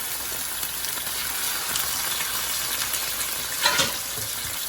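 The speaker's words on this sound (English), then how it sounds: "I'm going to put salmon in the pan" Steady sizzling of salmon frying in a hot pan, a constant crackling hiss with a brief louder spatter near the end.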